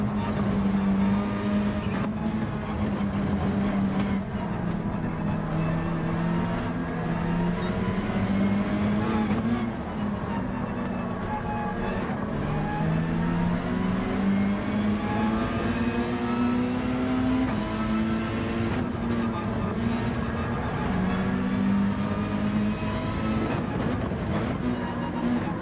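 Race car in Gran Turismo 7 droning through a long run, its engine pitch rising and dipping through gear changes, loud, steady and close, with no voices.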